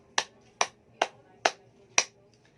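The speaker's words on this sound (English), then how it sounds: "let's give 5 claps to the students who answered" Students give five claps in a classroom: five crisp, evenly spaced hits about half a second apart, close and alone with no talk.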